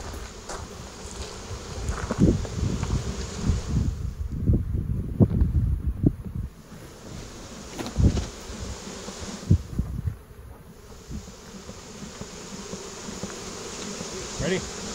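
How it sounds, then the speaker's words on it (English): Bees buzz densely around an open beehive, a close, wavering hum with rustling and a few handling bumps, mixed with light wind noise and no clear talk. "We don't want to squish any of these bees, so we're going to try to add a little bit of smoke here"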